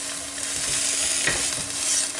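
Chopped garnish for chicken with olives sears and is stirred in a hot pan, a steady bright sizzle running throughout with a few scraping stirs near the middle, close and continuous.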